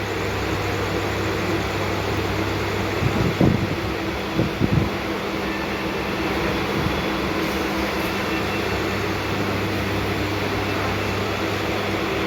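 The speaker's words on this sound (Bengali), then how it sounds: "আমরা ট্রেনে আছি।" Inside a moving passenger train carriage, a steady low rumbling hum with a constant drone fills the space, broken by a few soft knocks and clunks partway through.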